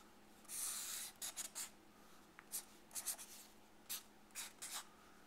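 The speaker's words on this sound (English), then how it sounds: "if you write it on the number line" Marker or pen scratching across a board while a number line is drawn, heard as close, brisk strokes and short scribbles with brief pauses between them, over a quiet room and no talking.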